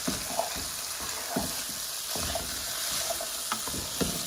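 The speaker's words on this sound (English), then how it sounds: "in go the kidney beans. We're going to mix all those in" Kidney beans being stirred into lamb mince chili frying in a pan, giving a steady sizzle with scraping stir strokes and soft wet clicks repeating every half second or so, close and fairly loud throughout.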